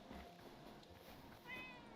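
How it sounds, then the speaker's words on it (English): A cat meowing aggressively indoors, faint, with a short insistent meow near the end over quiet room noise. "She's meowing very aggressively right now."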